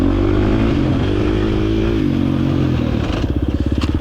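A 2023 KTM 350 dirt bike carries a steady, loud engine note through tight pine trees at a hare scramble, then eases into a choppy, pulsing idle-like putter near the end.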